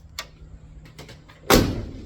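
A car door, one of a vehicle's newly fitted inside door latch mechanisms, shuts with a single sharp latching thud near the end, preceded by a few faint light clicks and rattles in a quiet space.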